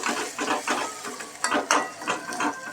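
Onion, green chili and garlic being sautéed in a pan for rava appe, heard as repeated scraping and stirring strokes of a utensil with a light sizzle, close and fairly steady, with no talking.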